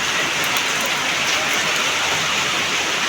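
Heavy, unbroken rain pours down steadily outdoors as a dense, even hiss that stays loud and constant throughout, with no voices.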